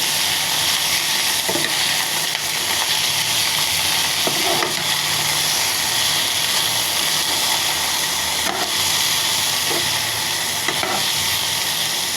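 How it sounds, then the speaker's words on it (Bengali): Chopped broccoli, onion, capsicum and green chilli sizzle in hot oil, a steady loud hiss broken by a few soft clatters of stirring. "ভাজা করে নিচ্ছি।"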